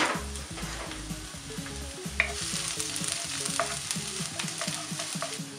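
Chopped ginger and garlic frying in hot coconut oil, a continuous close sizzle with bursts of crackling and the repeated scrape and tap of a stirring spoon against the pan.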